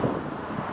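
Steady wind buffets the microphone with a dull, continuous rumble and roar, with no voices, while riding a Begode EXN HS electric unicycle up a hill.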